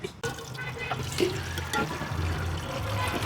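Water splashes and drains steadily from a pot of cooked noodles, a close, continuous trickling rush after a brief clunk at the start.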